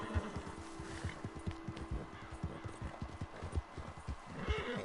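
In Red Dead Online, a horse's hooves beat a fast, steady clip-clop up close while the animal whinnies and snorts over the top, the hoofbeats dense and continuous throughout.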